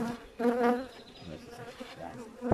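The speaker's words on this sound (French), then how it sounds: "c'est des abeilles qui viennent se balader" Bees buzzing close by, a wavering harmonic drone that swells and fades as they move around, with a sharper burst near the end.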